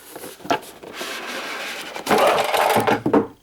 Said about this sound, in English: You have this slide-out box for packaging.